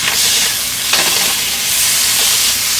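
Chicken seasoned with paprika and chicken powder being stirred in a hot pan, a loud steady sizzle and hiss running throughout with a few scraping strokes of the spatula cutting through it.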